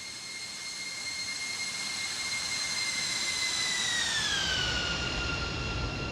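A Boeing 747-200 freighter jet roars past in a flight simulator game, a loud, continuous engine whine and rumble whose high tones slide downward as it passes, with no talk over it.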